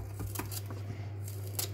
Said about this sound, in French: et moi je vais prendre les ciseaux à volaille